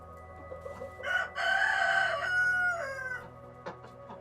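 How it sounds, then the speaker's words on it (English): A rooster in the Florida Keys crows loudly and close by, one long drawn-out call that rises, holds, then trails off, with faint background noise around it. "roosters crow from trees, parking lots, and bar roofs long before sunrise"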